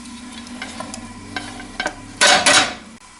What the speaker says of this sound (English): You can stir it up a bit.